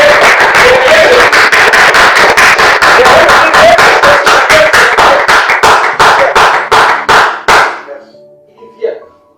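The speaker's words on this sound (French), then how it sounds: "Acclamons pour le Seigneur." A church congregation claps in quick, steady unison for several seconds, loud and close, and the clapping slows and thins out before stopping, leaving near silence.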